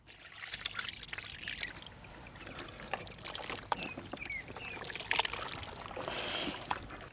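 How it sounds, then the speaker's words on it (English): Water poured into a large batch of mutton biryani marinade of curd and masala, a soft splashing trickle with small clinks and sloshes, fairly faint and close, with no talking. "I'm adding some water"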